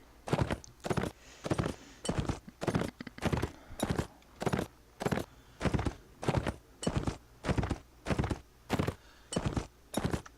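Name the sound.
horse hooves in video game Mount and Blade Warband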